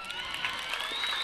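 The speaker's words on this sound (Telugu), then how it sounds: "మీ అందరూ క్లాప్స్ కొట్టడం నాకు చాలా ఆనందకరంగా ఉంది" A school talent show audience claps and cheers after a song, a brief wash of crowd noise with scattered whoops heard from within the hall.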